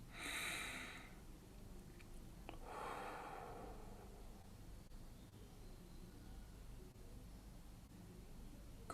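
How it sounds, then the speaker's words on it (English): Slow deep breaths, a long inhale and then a softer exhale, close and quiet, in a still room during a guided relaxation and visualization session. "take a deep breath now with me"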